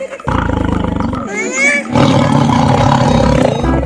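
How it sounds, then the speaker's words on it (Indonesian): A deep, loud roar from a Sumatran tiger nearby at a zoo enclosure, rumbling and rising in bursts for a few seconds. "Sekarang kita lagi di kandang harimau Sumatera nih guys."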